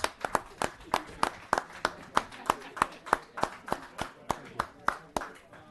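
Applause for veterans at a town board meeting comes across as a slow, even run of distinct claps, roughly three per second, close and sharp like a single pair of hands more than a crowd.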